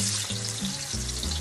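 Onion sizzles steadily in a hot pan while pasta is being prepared, a brief, close, continuous frying hiss with no talking.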